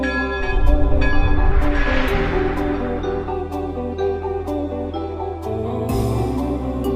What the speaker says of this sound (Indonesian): Tak jauh dari lonceng gereja yang bergema.